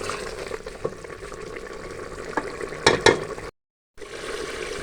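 Frying and sizzling in a pot while cooking Kashmiri daal chawal with rice, a steady close hiss and crackle with a few sharper pops, cut by a brief silence near the end.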